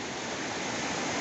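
Strong river current in the Serra Azul river near Palmares, Pernambuco, rushes as a dense, steady broadband roar of water, close and unbroken, with no voices.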